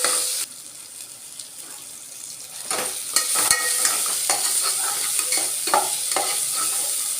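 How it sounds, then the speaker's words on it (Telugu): Ginger garlic paste fries and sizzles in a pan while being stirred for aloo pulao, with a steady close sizzle and repeated scraping stir strokes throughout. "అల్లం వెల్లుల్లి పేస్ట్ వేసుకొని పచ్చివాసన పోయే వరకు ఉడికించుకోవాలి"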